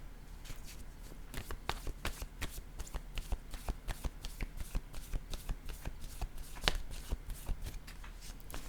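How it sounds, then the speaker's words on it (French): Tarot cards are shuffled and handled close by, a quiet run of rapid riffling flicks and soft taps repeating through the whole stretch, with no speech. "je vais déposer une autre carte"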